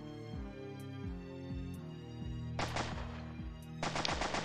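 Sniper rifle gunfire in an airport team deathmatch video game: two sharp, loud bursts of shots cut in over a steady musical backdrop, the second burst a rapid crackling run.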